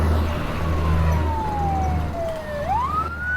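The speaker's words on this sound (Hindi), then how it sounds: "ये फायर ब्रिगेड की गाड़ियाँ इस तरफ क्यों जा रही हैं?" Fire brigade trucks pass in a film scene, their sirens sweeping down in a long gliding wail and then rising again, loud and close over a steady engine rumble and traffic.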